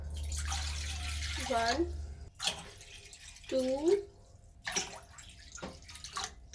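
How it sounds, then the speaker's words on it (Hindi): Water pours into a steel pan for Kashmiri chai, with splashing bursts and rising gurgling tones as it fills, interrupted by short pauses and faint background noise, with brief speech in the clip. "यहाँ पे मैंने एक स्टील का पैन ले लिया है। कावा रेडी करूँगी तो इसके अंदर पहले मैं पानी ऐड कर रही हूँ।"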